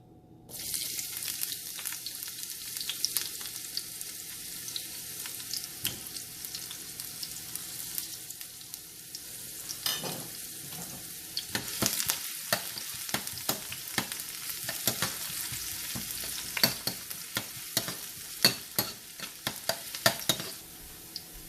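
Crushed garlic, sliced ginger and the white part of spring onion fry in a pan, a soft steady sizzle that grows busier as frequent clattering stirs and scrapes pile up toward the end.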